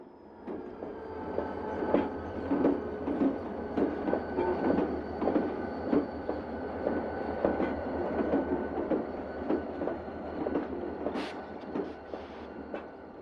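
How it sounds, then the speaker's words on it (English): A Chessie transfer train runs past South Philly Yard, the Conrail-operated yard, with a steady rolling rumble and rhythmic clickety-clack of wheels over rail joints, heard alone at moderate distance, plus a brief wheel squeal near the end. "Trackside action brought lots of transfer runs of Chessie's trains"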